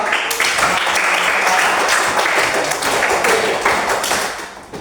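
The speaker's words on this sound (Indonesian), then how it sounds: "tepuk tangan untuk kedua" Audience applause at a computational-thinking training session, a steady burst of clapping from a group lasting several seconds before tapering off at the end.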